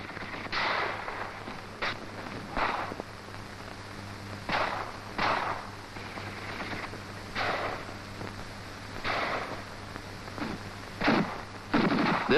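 Enemy machine-gun fire in a wartime troop tactics film comes as repeated sharp bursts and booming reports spaced a second or two apart over a constant low hum, with a rapid cluster near the end.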